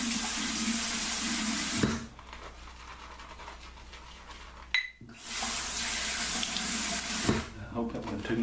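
Tap water runs into a sink while shaving lather is mixed, a steady close rush that stops twice for short gaps of quiet handling sounds before flowing again.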